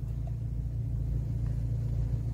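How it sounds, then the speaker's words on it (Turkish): Car rolling in neutral and slowing to a stop during a driving lesson: a steady low rumble inside the cabin with a faint rhythmic thump, no talking. "Boşa aldım, durdurdum aracımı."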